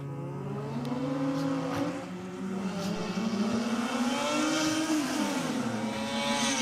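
Mazda RX3 and RX-7 rotary drag cars race down the strip at Sydney Dragway, their engines wailing loudly with rising and shifting pitch, one turbocharged car building boost as it chases the other.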